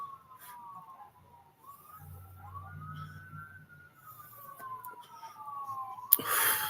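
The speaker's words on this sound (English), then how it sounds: "Y'all hear them police sirens?" A police siren wails in the distance, its pitch rising and falling in long sweeps, fairly faint against a quiet background.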